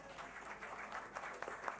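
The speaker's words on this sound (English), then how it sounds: "Big round of applause, folks." An audience applauds at a public meeting, a dense, steady patter of clapping heard from a distance at modest loudness for a couple of seconds.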